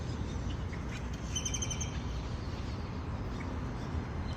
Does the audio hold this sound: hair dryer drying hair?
no